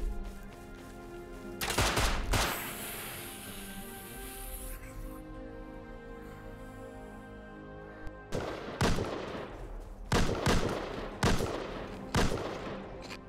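Gunfire in the survival video game Rust: loud bursts of rapid shots come in clusters, one early and several more near the end, with a quieter stretch between them.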